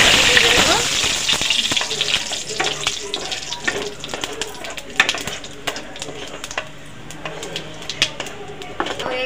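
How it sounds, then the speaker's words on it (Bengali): Whole cumin, crushed cardamom and a bay leaf sputter in hot oil over fried potatoes, a busy crackling sizzle with sharp pops and stirring clinks throughout. "এই আলু ভাজা গরম তেলের মধ্যে ফোড়ন দিয়ে দেবো গোটা সাদা জিরে, 4টে থেতো করা এলাচ,"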